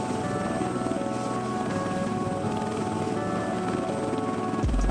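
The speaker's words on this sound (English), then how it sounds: "the Bell AH-1Z Viper, the world's most advanced attack helicopter" A Bell AH-1Z Viper attack helicopter thrums with a steady rotor beat and a whining turbine, a continuous close, loud drone with no voices.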